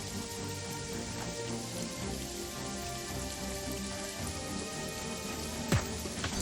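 Steady rain patters across a surface in the video game Jagged Alliance 3, a dense, even wash with no voices and one brief sharper sound near the end.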